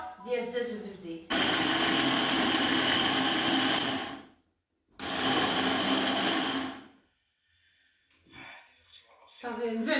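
A blender grinds rice and black-eyed peas in two loud, steady whirring bursts of a few seconds each, separated by a pause, with a voice talking briefly before and after.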